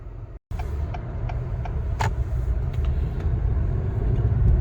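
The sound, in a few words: 2022 Acura TLX Type S AWD driving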